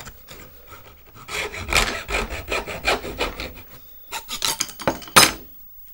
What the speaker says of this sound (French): Prenez une petite scie à métaux